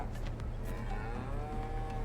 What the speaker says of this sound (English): The squelching you're hearing is actually the cows below me eating.